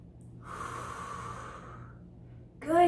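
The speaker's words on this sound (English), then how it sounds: "you're going to breathe through your nose and out your mouth" A child-friendly guided breathing exercise: one slow, audible deep breath drawn in through the nose and let out through the mouth, soft and close, with a voice starting to speak right at the end.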